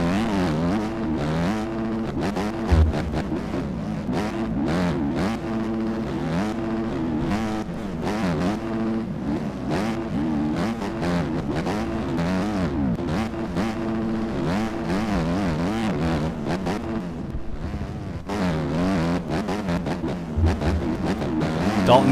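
A Honda motocross bike on a helmet cam during a D Class moto race, engine revving hard and continuously, pitch climbing and dropping through gear changes, loud and close the whole time.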